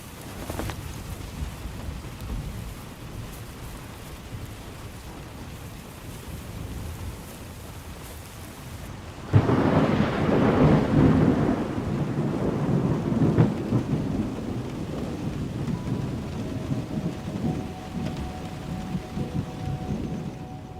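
Steady heavy rain hisses throughout in a gallery forest, with a loud rumble of thunder breaking in about midway and the downpour intensifying afterward.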